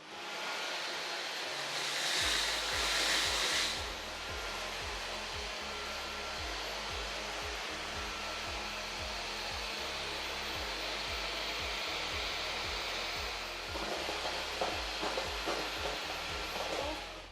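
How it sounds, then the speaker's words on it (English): A Dyson V15 Detect cordless vacuum cleaner runs steadily on a hard floor, a continuous loud whooshing motor roar that swells briefly as it sucks up debris, with no talking. "I just want to see how the hoover actually picks up these things from a hard floor."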